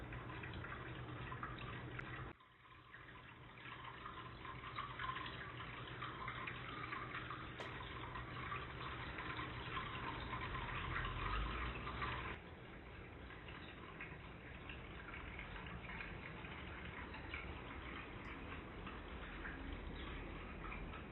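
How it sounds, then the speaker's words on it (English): Shallow creek water trickling and babbling steadily over stones, a continuous close gurgle with no voices. "This is such a pretty little creek here."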